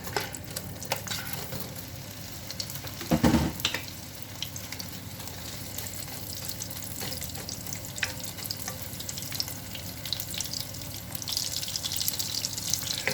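Sausages dropped into a pan of hot oil sizzle and crackle steadily, with a clatter as they go in near the start, then a continuous frying hiss in a home kitchen with no talking.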